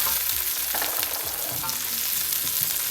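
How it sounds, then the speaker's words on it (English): Garlic and rice fry in hot oil in a pan over high heat for egg fried rice, a dense steady sizzle broken by scraping stir strokes, close up and with no voices. "You stir nicely, and I'll be adding garlic."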